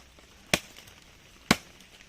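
Two sharp, solid chops about a second apart, a Gerber Gator machete biting into wet wood, close and loud against a quiet background.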